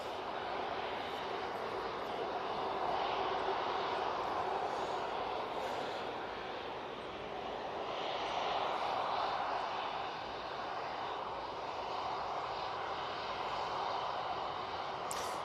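An Airbus A330-200 airliner departing Manchester Airport for Faro makes a moderate, distant engine rumble that rises and falls in two broad swells, with no voices.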